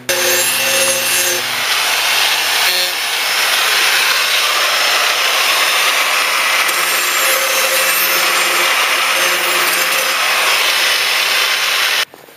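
Loud, continuous abrasive rasping as nicks are smoothed from a steel electric lawnmower blade, a steady grinding texture with brief tonal changes, running close and alone until it stops abruptly.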